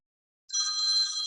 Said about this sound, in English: My cell phone just went off.